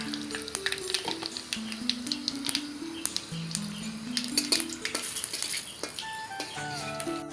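Panch phoron spices crackling and sizzling in hot mustard oil with black pepper and cinnamon, a faint, scattered popping patter running under louder background music.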